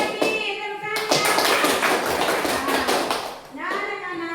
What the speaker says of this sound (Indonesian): Semangat lagi, tepuk tangannya.